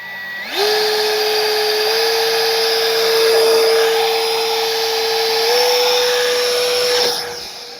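A 50mm T-33 RC model jet from Arrows spins up to about half throttle with a high, whining rush. The whine holds steady and close for several seconds, edges up slightly, then winds down.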